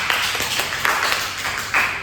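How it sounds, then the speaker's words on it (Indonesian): Children in a school or madrasah classroom clap together during an Islamic jurisprudence lesson, producing a steady patter of applause that swells in a few bursts over about two seconds. "Beri tepuk tangan dulu kepada anak-anak bapak semua."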